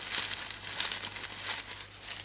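Soft, fluffy fabric gems from a Tresors de Luxe craft package are handled up close, giving a continuous papery crinkling and rustling with small irregular bursts throughout.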